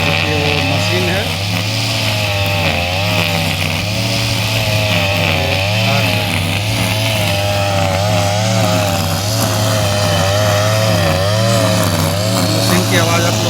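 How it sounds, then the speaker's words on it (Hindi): A heavy tree-cutting machine working on large trees runs loud and continuous with a steady engine drone and varying whine, while someone talks over it throughout. "देखिए वो मशीन है,"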